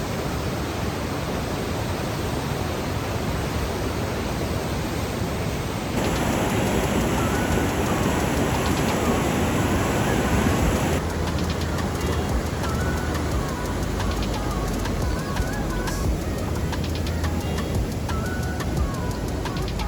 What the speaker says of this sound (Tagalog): Medyo malakas-lakas yung agos